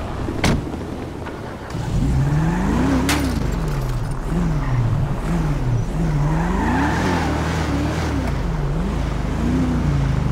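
A car engine idles and revs in GTA RP, its pitch rising and falling in repeated swells with a faint squeal of tires. It runs steadily and up close for about eight seconds, with no talking.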